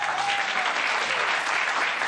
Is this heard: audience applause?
yes